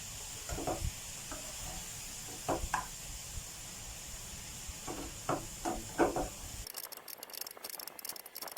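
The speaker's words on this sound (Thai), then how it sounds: "ผมก็จะใส่อกไก่ลงไปผัดก่อน" Pieces of chicken breast sizzle and crackle as they stir-fry in a pan while a spatula scrapes and knocks repeatedly; the frying cuts off near the end.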